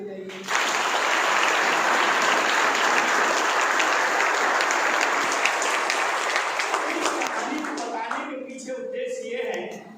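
An audience at a talk on mental health claps for their parents, a loud, dense burst of applause starting abruptly and holding for several seconds before tapering off, with a voice starting to speak at the end.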